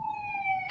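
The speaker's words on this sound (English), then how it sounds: "As the ambulance or something is going by, we'll wait till that goes by" A passing ambulance siren sounds as a steady, clear wailing tone with bright harmonics at moderate distance, swelling slightly before a sudden burst of broadband noise at the end; no speech over it.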